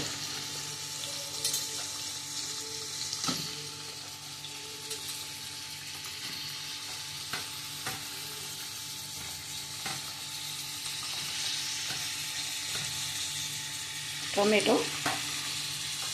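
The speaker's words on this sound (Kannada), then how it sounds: "ಹಾಗೆ ಗರಂ ಮಸಾಲವನ್ನು ಹಾಕಿ ಚೆನ್ನಾಗಿ ಫ್ರೈ ಮಾಡುವ" Masala of garlic, grated coconut, tomato and garam masala fries in a pan with a low continuous sizzle, occasional stirring scrapes and a louder clatter near the end, heard close with no talk.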